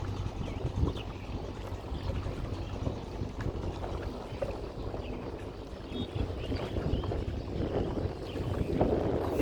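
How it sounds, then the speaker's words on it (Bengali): A boatman rows a wooden dinghy where the Turag and Kali rivers meet, giving soft rhythmic splashes and water lapping against the hull amid steady wind rumble, with no voices. "হেলে তুলে নৌকা যাচ্ছে"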